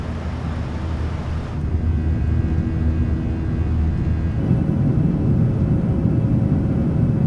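A Boeing 737-800 airliner climbs out of Las Vegas in Microsoft Flight Simulator 2020, its jet engines a loud, steady, continuous roar that thickens and grows rougher partway through, with no one talking.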